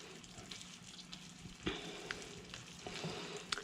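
Chicken livers sizzle steadily in a hot pan, broken by occasional scraping clicks of a utensil as they are stirred, close and moderately quiet with no talking.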